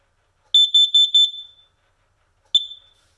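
A residential smoke alarm set off with canned test smoke gives four quick piercing beeps in a row, then after a pause a single shrill chirp, loud and close in a quiet room.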